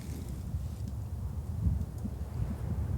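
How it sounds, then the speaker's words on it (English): Steady low wind rumble buffeting the microphone in a ghost town, with gusts that swell and fade, continuous throughout. "It's very windy."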